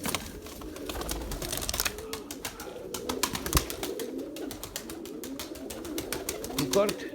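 White pigeons coo softly in a loft, the low, rolling calls repeating throughout alongside sharp clicks and light scuffling, with voices talking nearby.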